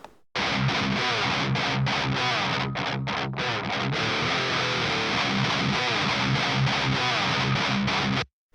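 Heavily distorted electric guitar run through a 6505 plugin emulating the Peavey 5150 preamp, loud chugging riffs with brief choppy stops near the start, ending abruptly.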